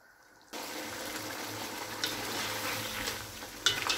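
Mutton chops in gravy cooking over a high flame as the water dries off: a loud, steady bubbling sizzle starts abruptly and keeps going, with a few sharper spatters and clinks along the way.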